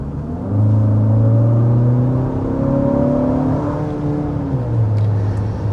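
A 2025 Infiniti QX60 engine accelerates hard, its drone rising in pitch as revs climb, dipping at an upshift of the 9-speed automatic, then climbing again, heard from inside the cabin.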